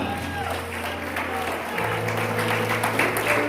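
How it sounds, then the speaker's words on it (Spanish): Church congregation clapping for the Lord during a Spanish-language service, a dense steady wash of applause that builds slightly louder partway through, with organ or keyboard tones held underneath. "Den un aplauso al Señor con vida esta preciosa mañana."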